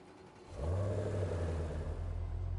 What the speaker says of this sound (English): This Jag sounds absolutely dope